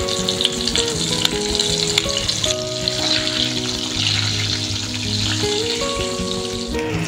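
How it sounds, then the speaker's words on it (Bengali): Pointed gourds (potol) frying in white oil, a steady loud sizzle with bubbling crackle running throughout, faint tonal hum in the background. "চল পটলগুলো আগে ভালো করে একটু ভেজে নিই।"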